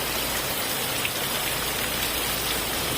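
Heavy rain pours down steadily, a dense continuous hiss with no pauses, close and loud throughout.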